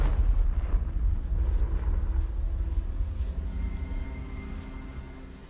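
A Confringo blasting spell detonates in Hogwarts Legacy, a deep rumbling boom that rolls out and slowly fades into a low lingering tail with a faint high shimmer.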